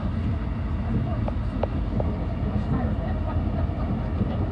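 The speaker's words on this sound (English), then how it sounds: "Hello, Thameslink service from Horsham to Peterborough." A Thameslink train on the service between Horsham and Peterborough passes by, a steady rumbling roar with faint clicking rail sounds and brief squeals over the low-frequency noise, loud and continuous throughout.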